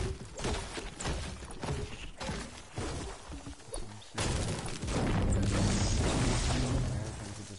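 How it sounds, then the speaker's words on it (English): Distant gunfire from a battle in the Fortnite video game, a dense crackle of shots and booms running through the whole stretch, louder and more continuous in the second half. "You hear that gunshot? There's a hell of people shooting over there."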